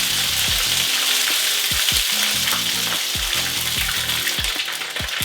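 Beef pieces frying in hot oil with a loud, continuous crackling sizzle, broken up by the clatter and scrape of utensils turning and shifting the meat at close range.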